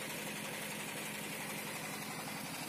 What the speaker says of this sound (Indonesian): Untuk genset ya, atau odong-odongnya, ini pakai diesel untuk penggerak mesin dinamonya.